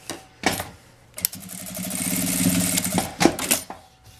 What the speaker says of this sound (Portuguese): e vou passar uma costurinha aqui.